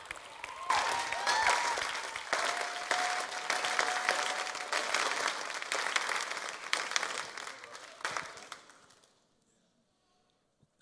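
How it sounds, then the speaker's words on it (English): A crowd gives a big round of applause for a speaker at a Saturday session, steady dense clapping that holds for about eight seconds before tapering off into near silence. "So give Eugene a big round of applause."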